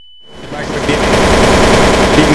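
Dense, continuous gunfire from Counter-Strike: Source on PC rises after a brief quiet start and holds loud and steady, a sustained automatic burst with overlapping shots.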